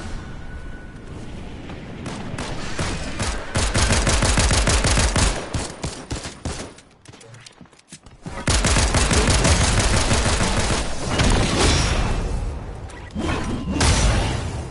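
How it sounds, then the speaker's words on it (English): A shotgun in Fortnite firing shot after shot in rapid succession, loud dense bursts of blasts that pause briefly partway through before the barrage resumes just as hard and continues to the end. "There's no way they shoot that many times with that shotgun."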